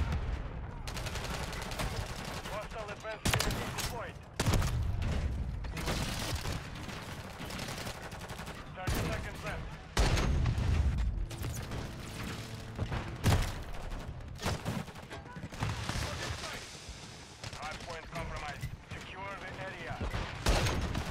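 Light machine gun fire in an online shooter video game, long loud sustained bursts of automatic gunfire with brief pauses and scattered shots, and someone talks excitedly over the shooting.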